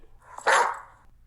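A single sharp, loud dog bark sounds up close, preceded by a faint short yip.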